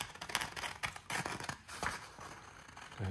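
Scissors cutting paper during a nursery art activity, a series of quiet crisp snips and rustles close by, with no talking.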